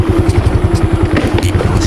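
A motorcycle engine idles nearby with a steady, rapid low putter and some light clatter, loud and continuous throughout.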